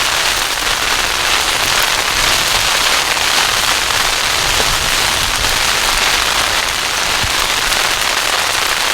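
Freezing rain and sleet pelt a car during a storm, a dense, steady, loud patter and hiss that continues without a break throughout, heard from inside the vehicle.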